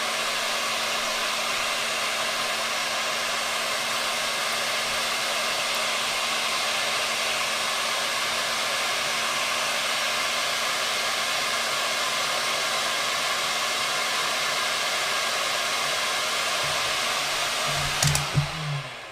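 A heat gun blows steadily and loudly throughout while heat is applied to parts of a B&O Beolit 600 portable speaker under repair, a constant broadband whoosh with a faint clatter near the end.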